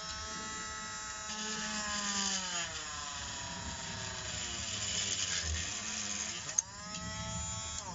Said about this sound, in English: I'll drill the other one